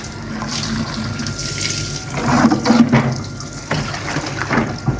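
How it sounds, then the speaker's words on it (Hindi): Water runs steadily from a tap while towels are washed by hand, a continuous splashing stream that swells with sloshing surges partway through, with no talking. "वो टावलों को इस तरह वॉश कर लिया करें"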